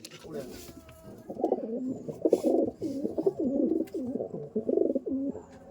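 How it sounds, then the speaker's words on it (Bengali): Laldom pigeons coo repeatedly in soft, rolling phrases, fairly close, in a pigeon loft, with faint background chatter and a few higher bird chirps. "এই দেখুন কত সুন্দর ব্রিডের পায়রা"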